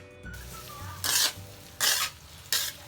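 Onions frying in hot oil for a Hainanese beef dish, a low sizzle punctuated by three short bursts of louder crackling or stirring, no voices.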